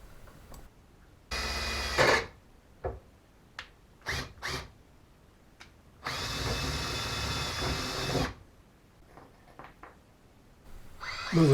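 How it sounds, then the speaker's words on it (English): A drill boring holes in rebar for a pond sea wall: two longer grinding runs with several short bursts and clicks between them, close and fairly loud. "drill some holes in the rebar"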